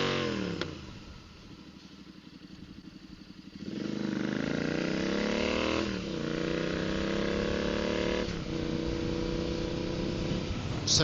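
A Royal Enfield motorcycle fitted with a DNA performance air filter and its stock exhaust revs up loud and close, its engine note rising and falling several times with crackles and pops from the exhaust between pulls.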